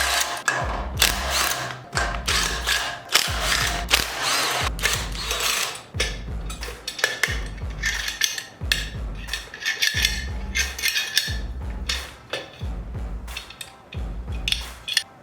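A ratchet wrench clicks in repeated rhythmic bursts while bolts come off the pressure plate of a twin disc clutch from a 1.8 turbo Chevrolet Cruze, close-up mechanical ratcheting with brief pauses between strokes.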